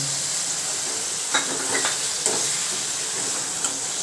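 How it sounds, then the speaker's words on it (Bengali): Onion chunks and two green chillies fry in hot oil in a pan for a home-style chicken curry, a steady close sizzle with a few sharp crackles and pops and no one talking. "এর মধ্যে বড় বড় করে পেঁয়াজের টুকরো দুটো কাঁচা লঙ্কা দিয়ে দিলাম"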